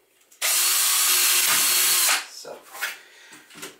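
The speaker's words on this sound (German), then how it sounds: "und kann das Loch bohren" A power drill bores a hole through a plexiglass sheet held over a table edge, the plastic melting slightly: one loud, steady, high whine for almost two seconds, then a voice talks afterward.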